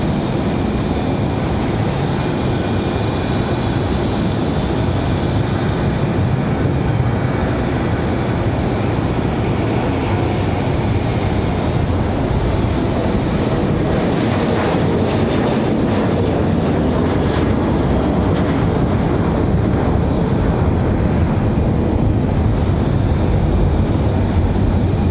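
A Breeze Airways airliner arriving at Raleigh-Durham airport produces a long, steady, loud engine roar that holds level for the whole stretch, no talking over it.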